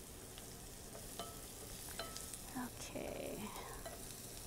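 Zucchini and turmeric stir fry frying in vegetable oil, a steady broadband sizzle with occasional stirring scrapes, fairly quiet, with a brief spoken word and faint voices over it.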